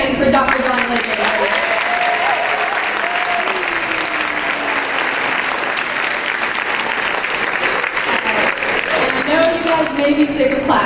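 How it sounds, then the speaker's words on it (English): A school assembly crowd applauds continuously for about eleven seconds, with full, steady clapping and cheering while voices talk and call out over it. "let's give another hand for Dr. John Lincoln."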